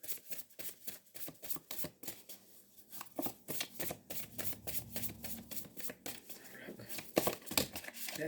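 A deck of tarot cards shuffled by hand in a quiet room, rapid riffling and flicking in repeated close bursts with brief pauses between.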